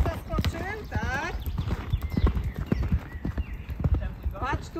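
Horse cantering over jumps in a riding arena during jumping training, rhythmic hoofbeats thudding close by in repeated three-beat strides, with snorts and a trainer's voice calling out over the gait.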